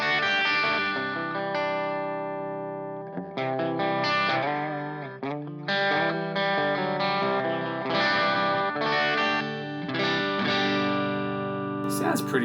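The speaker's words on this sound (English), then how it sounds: "So it's quite a dirty sounding clean amp, although I do have the gain boosted pretty high." An electric guitar runs through a HeadRush clean amp with the gain pushed high, giving a gritty, slightly distorted tone with chorus-like shimmer as sustained chords and melodic lines ring out steadily and loudly.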